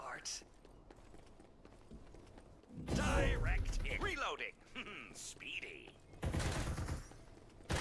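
Rapid bursts of gunfire from the shooter video game Farlight 84, heard in loud clusters alongside game effects, with players talking over parts of the action.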